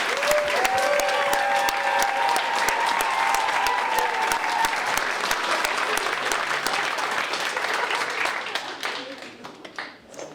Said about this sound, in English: Let's give one more round of applause for all of our graduates.